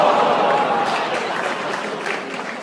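Applause from a comedy club audience, a dense, even wash of many hands clapping at once, fading slightly toward the end.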